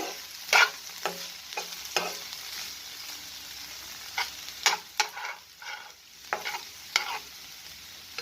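Chopped onion stalks fried in a pan and stirred over and over with a spatula: repeated scraping strokes in uneven bursts over a soft sizzle, fairly close, with no voices.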